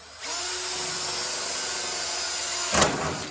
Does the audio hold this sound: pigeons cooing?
no